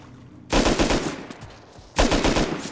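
Two loud bursts of rapid automatic gunfire ring out in the video game Rust, the first lasting about a second and the second following after a short pause.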